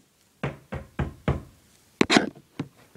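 Six or seven sharp knocks in uneven groups, firm and close, with a brief pause between the first set and a quicker final burst.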